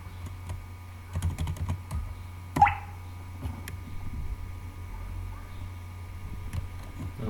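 Typing on a computer keyboard while coding a Laravel tutorial, irregular bursts of close key clicks with pauses between, fairly quiet, with someone speaking intermittently.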